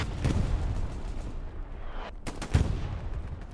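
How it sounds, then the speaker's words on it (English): Distant artillery shelling in the Hell Let Loose tournament match, heavy booms and rumbling blasts rolling in, one sharp impact standing out near the end over a constant battlefield din. "Artillery still shelling everything."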